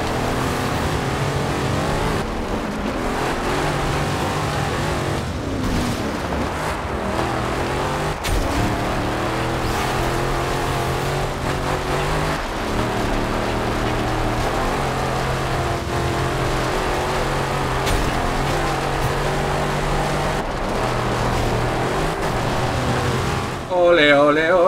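Tuned car in Forza Horizon 2, a steady engine drone with shifting revs and gear changes running the whole way, someone talking over it.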